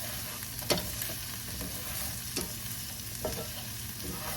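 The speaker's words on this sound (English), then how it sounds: "And we saute that for another few minutes" Garlic, celery and ginger sautéing in a pan: a low, steady sizzle and hiss with a few soft stirring scrapes, close and quiet, no voices.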